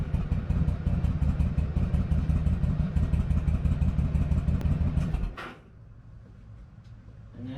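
A Yamaha V Star 1100 Classic motorcycle's V-twin engine runs at a steady, loud, throbbing idle during an oil change, then shuts off sharply after about five seconds, leaving a quiet room.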